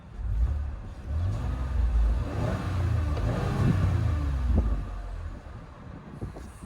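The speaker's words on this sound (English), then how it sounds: "You can hear the belt drive a little bit, but that's okay." A 2021 Chevrolet Blazer 3LT AWD with the 3.6 engine idles, a steady low rumble with a faint belt-drive whine running throughout, heard up close.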